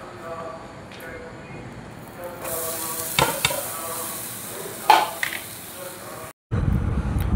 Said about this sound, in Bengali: নারকেলটা দিয়ে আমি কন্টিনিউ নেড়ে যাব যতক্ষণ না নারকেলের পাকটা হচ্ছে